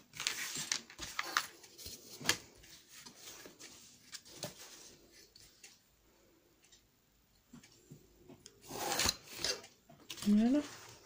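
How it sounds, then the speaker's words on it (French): Scissors snip through paper for a scrapbook album with a beach cabin theme, making scattered close-up clicks and rasping cuts in irregular bursts, with a quiet pause in the middle. "Je vais prendre le ciseau pour découper."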